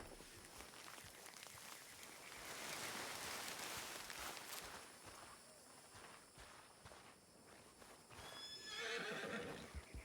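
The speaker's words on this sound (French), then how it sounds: "Je vais réessayer d'avoir un cheval, ce sera peut-être plus facile." Horse neighing and hooves in the video game Red Dead Redemption, a dense busy stretch of clip-clop and movement with a whinny rising near the end, loud and close.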